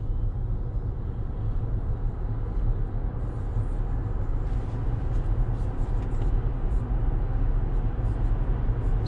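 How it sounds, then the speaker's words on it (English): A 2021 Toyota RAV4 Prime accelerating flat out from 0 to 60 in EV-only mode, with a loud, steady wash of road and drivetrain rumble filling the cabin and no one talking. "0 to 60, just flat footing it."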